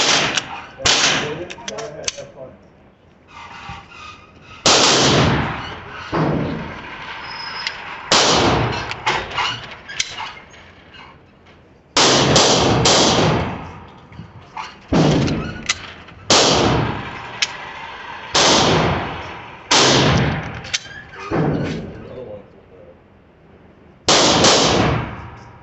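Pistol shots from an IWI handgun firing Hornady Critical Defense rounds at an indoor range, loud sharp reports in irregular clusters with echoing decays and gaps between strings.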